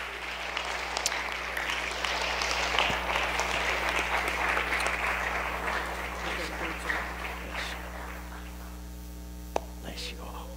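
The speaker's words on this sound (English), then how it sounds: "Let's clap our hands to the Lord." Congregation clapping hands at a church service, sustained, full applause over a low electrical hum that gradually thins toward the end.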